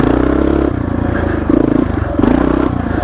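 A Honda XR650R motorcycle engine runs close and steady in second gear, a continuous low throbbing with small surges in revs and some clattering mechanical noise.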